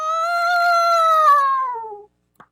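A person mimics an elephant with a loud, wavering, high-pitched trumpet-like wail that slides downward and cuts off, followed by a faint brief click.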